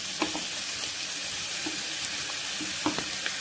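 Chopped ginger and garlic frying in a pan for a Malaysian-style vegetable kurma, a steady hiss of sizzling oil with a few soft knocks of a spoon stirring now and then.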